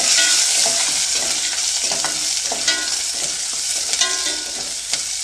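Chopped onion frying in a pan with curry leaves and garlic for okra sambar, a steady loud sizzle throughout with scattered stirring scrapes and small crackles, no talk.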